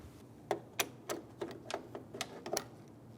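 A ratchet or driver loosens the mirror bolt on a 2000–2007 Ford Focus driver-side door, giving about nine sharp metallic clicks in an uneven rhythm, close and fairly quiet, with no talking.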